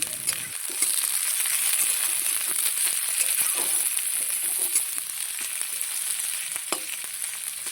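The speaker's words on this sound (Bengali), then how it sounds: "বেশ একটু ভাজা ভাজা করে নেব" Chopped onion and green chili frying in oil with cumin seeds, a dense continuous sizzle close and steady, with faint stirring scrapes and no talking.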